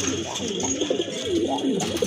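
Domestic pigeon cooing in a bird-selling setting, a soft repeated throaty coo close by, with people talking over it and background noise throughout.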